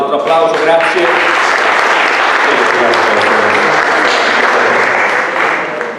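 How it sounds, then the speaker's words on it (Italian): A steady, full round of audience clapping fills a hall at the Città di Verona literary prize award ceremony, sustained and loud for six seconds and easing slightly at the close, with faint voices mixed in at the start. "Bene, un altro applauso, grazie."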